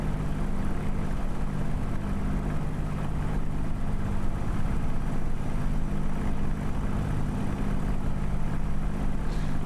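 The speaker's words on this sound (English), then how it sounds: "I want to hear the roar of the Merlin and all that." Merlin aircraft engines in Microsoft Flight Simulator drone with a loud, steady low-pitched roar and rumble that holds evenly for the whole stretch, with no talking over it.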